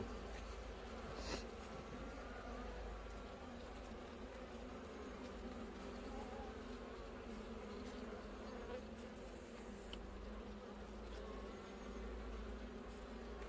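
A steady, dense buzzing of many honey bees at a hive hums continuously near the microphone, with a low rumble underneath and no voices.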